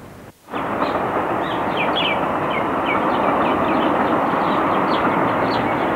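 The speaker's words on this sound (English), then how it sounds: "Can you hear that train?" A loud, steady rumble of a train passing close by, continuous broadband roar with faint high squeals on top, no voices.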